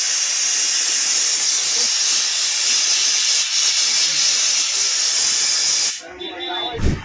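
Steady, loud compressed air hisses close up as it's blown over a Bajaj Dominar 400 ABS motor during repair, continuous for about six seconds before cutting off, followed by brief background voices.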